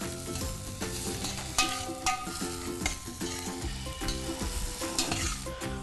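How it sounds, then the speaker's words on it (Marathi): Peas for matar ka nimona sauté in a pan with constant close stirring, a steady sizzle broken by repeated scraping strokes of the spoon against the metal. "त्यामुळे आपल्याला सारखं परतायचं आहे."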